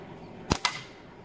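A Flatcat slingshot fires with one sharp snap, then a second crack a split second later, loud and close against a quiet background.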